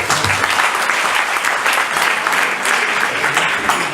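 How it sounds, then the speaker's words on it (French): Loud, dense applause from a gala audience, a continuous roar of many hands clapping with no breaks, close and filling the whole room. "On applaudit bien fort."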